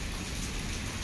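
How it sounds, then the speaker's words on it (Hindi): Heavy rain pours down in a dense, steady hiss with no breaks, close and constant throughout. "देखो भाई केते जोर वर्षा हो देख"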